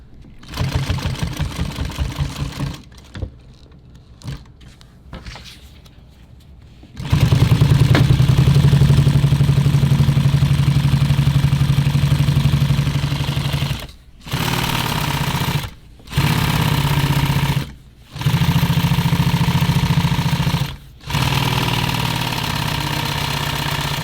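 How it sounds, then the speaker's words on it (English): A sewing machine stitches two pieces of nylon webbing together in a loud, close, rapid mechanical chatter, running in several long bursts separated by brief pauses, after some quieter stop-start stitching at the beginning. "when you're taking 2 pieces of webbing like this and sewing it together, you can make it stiffer by adding more lines of stitching into it"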